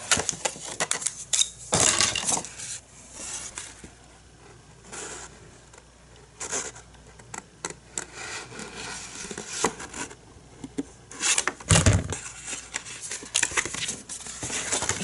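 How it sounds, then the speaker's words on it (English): Scrapbooking paper is cut at a craft table in scattered, close crisp snips and rubs, with pauses and light clicks of tools between the cuts. "Now I'm gonna cut this in here."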